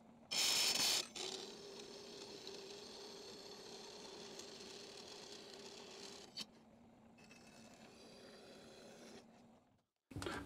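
A DoAll bandsaw gearbox runs after repair, giving a steady mechanical whir with gear and ratchet-like clicking throughout. A loud burst of noise opens the clip, a sharp knock comes midway, and the running sound drops briefly near the end.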